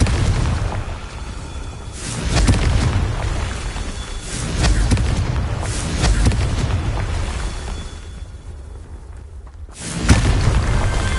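Confringo blasting spell in the video game Hogwarts Legacy, a series of loud booming explosions with rumbling thuds, a final sharp blast near the end, no talking.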